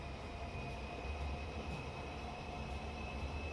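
Class 323 electric train rolling past in the video game Transport Fever 2, a steady low rumble with a sustained whine and faint periodic wheel clicks, no talking.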